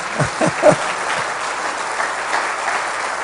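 Congregation applause in a church service: a few sharper, heavier claps up front give way to a soft, steady wash of clapping that carries on evenly through the rest, with no voices on top.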